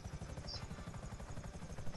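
The Akula helicopter in GTA V whirs with a steady, pulsing rotor chop, close and continuous, with no talk over it.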